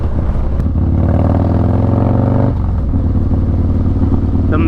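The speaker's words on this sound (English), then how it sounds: "shout out to the brother Charlie for dynoing my bike and making it run like how it does" A dyno-tuned motorcycle with a Memphis Shades Road Warrior fairing cruises along, its engine droning loud and close with a steady, slightly rising pitch, then dropping after a shift partway through.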